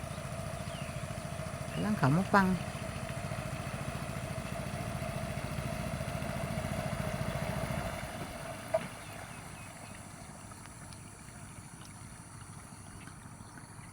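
A small boat's motor runs steadily throughout, with a clattering rattle near the start and a brief knock later, while someone talks over it.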